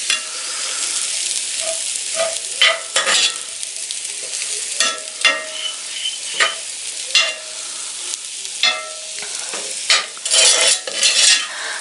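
Ginger slices with their peel frying in a pan, a loud close sizzle broken by repeated spatula stirs and scrapes that swell and fade in an irregular rhythm.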